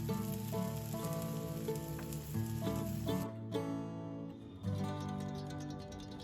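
A cheesy omelette sizzles in a frying pan with a constant crackling hiss as the pan is moved, while music plays loudly over it.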